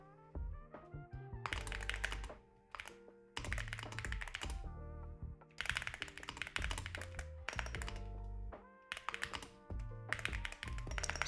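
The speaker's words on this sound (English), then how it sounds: "So I'm over here typing in Slack." Rapid clattering keystrokes on a computer keyboard while typing a message in Slack, coming in dense bursts separated by short pauses, close and fairly clear, with no talking.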